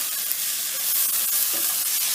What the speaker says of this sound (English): You can hear the mushrooms sizzle slightly and the peppers as I add them.